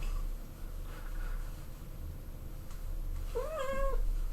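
A domestic cat lets out one short, warbling, rising-and-falling yowl near the end, faint against a quiet room hum.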